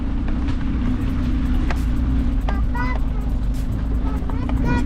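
A motorcycle rides an off-road track toward a temple in Keradi, with a steady engine rumble and road noise running loud and constant throughout, while someone talks over it.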